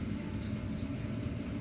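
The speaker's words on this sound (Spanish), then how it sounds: "arranca el ventilador y ya ionizado, ya tenemos llama en el quemador" An ORBEK sealed low-NOx water heater runs with its fan spinning and the burner lit, giving a steady, even broadband roar that holds unchanged throughout.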